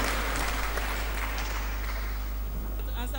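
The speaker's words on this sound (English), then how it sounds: "Give me a round of applause" A group applauds in a church catechism class on the Eucharist, a short burst of clapping over a steady low hum, moderately loud and continuous, with a voice briefly heard near the end.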